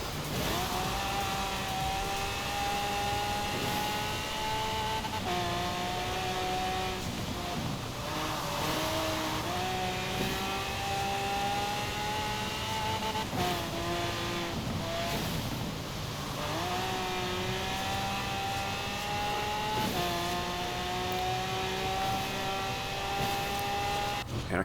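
Lamborghini Veneno hypercar with an AWD race tune in Forza Horizon 4, its engine roaring loud and close for the whole stretch, revving up through gears in repeated rising sweeps with brief dips at each shift.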